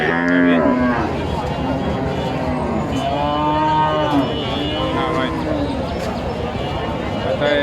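A Friesian dairy cow moos several times, long and loud, at a busy cattle market, with people talking throughout.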